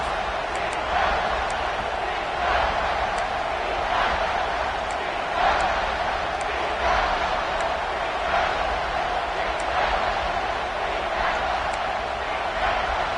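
A steady, loud roar from a packed football crowd at Autzen Stadium for an Oregon home game on third down, a dense wall of noise with rhythmic swells and no pauses.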